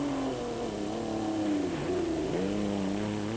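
Rally cars on the 1999 Dakar Rally chasing down motorbikes: a continuous engine drone with rising and falling revs, steady and moderately loud, with no talk.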